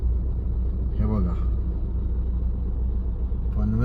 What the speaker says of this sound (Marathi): बघा मित्रांनो कशा गाड्या चालवायच्या आपण या असल्या ट्रॅफिक मध्ये